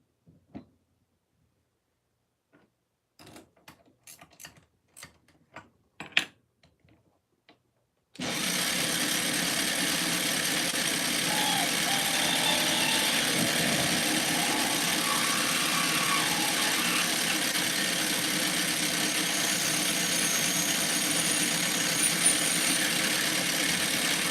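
Drill press boring into a brass workpiece in a machine shop, a steady loud mechanical drone that starts abruptly after a few scattered handling knocks and runs continuously to the end.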